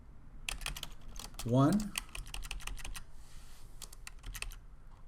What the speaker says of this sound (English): So if I go in here and I type in the toggle, this could be question